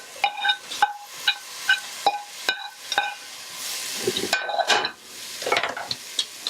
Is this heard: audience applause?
no